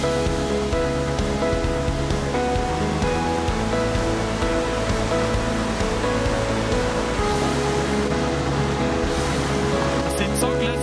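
A river runs through the Verzasca valley in Ticino, Switzerland, its turquoise water flowing over smooth, worn stones. The rushing sound is loud, steady and broadband, and it carries on without a break for the whole stretch.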